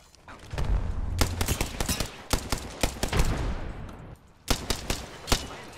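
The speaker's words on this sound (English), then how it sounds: "Why isn't the Havoc fire instantly? Because it's got a charge up." Havoc energy rifle in the Apex Legends video game fires in rapid bursts, loud close shots with a charge-up before each volley, broken by brief pauses across several seconds.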